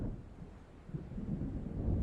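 Distant thunder rumbles low and soft as a storm approaches in the video game Alan Wake, a brief muffled roll that swells slightly toward the end, with no talk.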